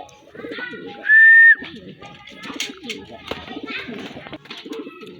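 Pigeons cooing and calling in a loft, soft repeated coos and chirps throughout, with one brief loud whistle-like tone near the start and a person talking over the birds.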